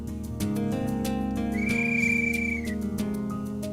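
A scout whistle gives a single sustained shrill blast in a mountain trail setting, rising briefly in pitch and then steady for about a second, over a constant background of low tones and ambient hum.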